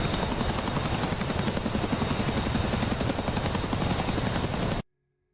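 Helicopter in the DCS flight simulator game, a steady, loud rotor thump with dense pulsing chop and turbine whine, continuous for several seconds before cutting to silence.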